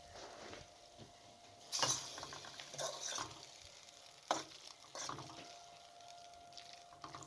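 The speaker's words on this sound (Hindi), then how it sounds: "चम्मच या फोक की मदद से तमाम चीज़ों को अच्छे तरीके से मिक्स कर लें।" A spoon or fork stirs spicy keema spaghetti in a pan, giving a few scraping clinks and soft sizzling, fairly faint and spaced out.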